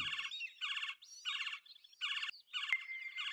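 Bird calls from a birding simulator game: a rapid series of bright, buzzy chirp phrases that repeat in short bursts with brief gaps. They sound clear and fairly close, with no voices over them.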